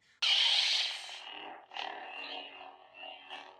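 A harsh, raspy Theory Sabers lightsaber with the Balin Skulls sound font ignites with a loud burst, then hums and crackles with a couple of swinging swells, close and without talk.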